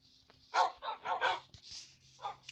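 Dogs barking in a video game, a quick run of five or six sharp yips and barks, close and fairly quiet, over a faint low background hum.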